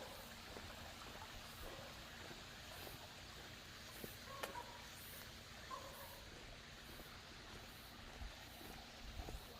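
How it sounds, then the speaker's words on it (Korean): Mountain valley stream near a small rural village, flowing steadily as a soft, continuous rush of water, fairly faint and distant, with a few brief background knocks and no talking. "앞에 요 저 계곡 그 개울물도 흐르고 있고"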